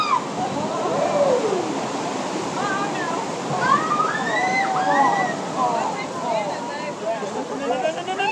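Water sloshes and splashes around a spinning raft on the Kali River Rapids ride at Disney's Animal Kingdom, a rushing roar heard close up with riders' excited voices and shrieks over it.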